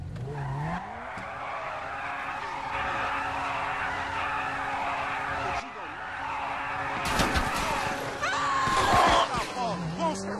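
Tires squealing on a car doing a burnout in GTA 5, a sustained skidding screech over a revving engine, growing louder and harsher toward the end with a voice talking over it.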